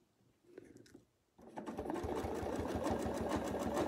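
A domestic sewing machine with a ruler foot stitches a quilt. After a few quiet handling sounds it starts up and runs in a fast, steady, close mechanical rhythm to the end.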